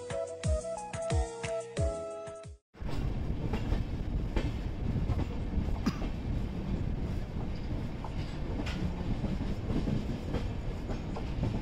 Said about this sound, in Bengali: ট্রেনটি তার মধ্যে ননস্টপ চলবে 115 কিলোমিটার, আর পার করবে 36টি ইন্টারমিডিয়েট স্টেশন